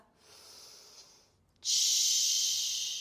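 Breathing during a Pilates flow: a soft inhale-like hiss, a short pause, then a strong, breathy exhale held for over a second. Close and airy, with no voices.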